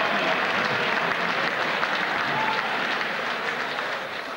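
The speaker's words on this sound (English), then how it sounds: "would you please give these two gallant warriors a big round of applause?" Steady crowd applause fills the hall for two welterweight boxers after a professional fight, dense and even throughout with no clear voices on top.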